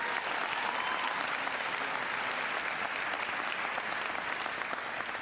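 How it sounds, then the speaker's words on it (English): An audience at a town hall meeting in Nashua, New Hampshire, applauds the mayor with a steady, continuous wash of clapping from a large crowd. "Give her a big round of applause."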